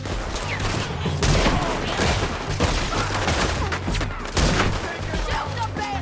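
Red Dead Redemption 2 gunfire during an artillery battle, a dense, ragged fusillade of near and distant shots cracking continuously with heavier booms, with a voice briefly shouting among them.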